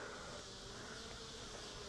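Honey bees buzzing inside a hive, a steady dense hum with no pauses, fairly faint and even.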